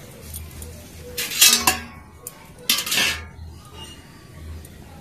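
A knife slices rolled-out flour dough into thick khaja pieces on a board, giving two short bursts of scraping, clattering cuts over a quiet room with a low background hum.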